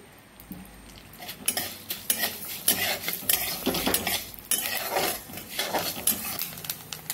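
Fenugreek seeds roasting in half a spoon of oil while being stirred in a pan for Solapuri black masala, with frequent metallic scraping and clinking over a light sizzle.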